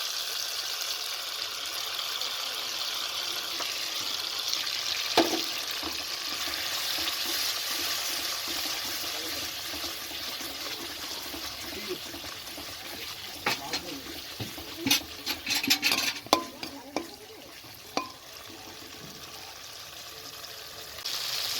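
A ground paste of poppy seed, melon seed, green and dried chillies, cumin and pepper frying in a pan for a prawn curry, giving a steady hiss with scattered sharper sizzles and clatters toward the end.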